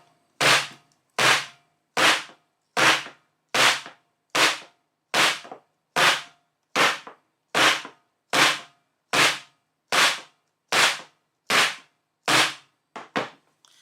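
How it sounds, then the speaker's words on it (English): A tray of piped macarons is banged on a table, producing a long run of about eighteen sharp, loud knocks at an even rhythm, each followed by a short decay, with no talking. "you need to bang it on the table"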